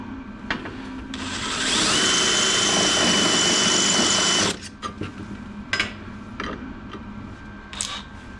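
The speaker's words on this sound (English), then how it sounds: "I'll drill this bit with the Christmas tree bit." A power drill fitted with a Christmas tree step bit whines steadily for a few seconds while boring a hole during a diesel heater modification, then stops, followed by scattered clicks and handling noises.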